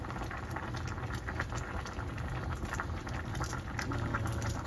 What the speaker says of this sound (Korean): 된장찌개를 끓이고 있는데 지금 청양고추를 썰어 넣고 있어요.